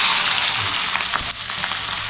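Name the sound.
onion and green chili sizzling in oil with cumin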